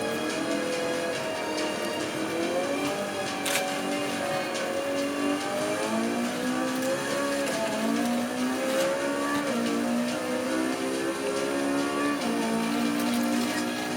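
Race car in Forza Motorsport 5 on the Nürburgring, its engine screaming at high revs with steady gear-to-gear pitch sweeps and occasional tire squeal, loud and continuous with no voices.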